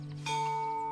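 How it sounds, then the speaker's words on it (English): A bell rings once at a gatehouse in the Botany Manor video game, a bright chime struck partway through that holds a clear sustained ringing tone over a low steady hum, with no talking. "ring the bell"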